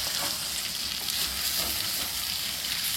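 Pepper chicken fries in a pan, giving off a steady close hiss and crackle of hot oil with light stirring movements, continuous throughout and free of talk.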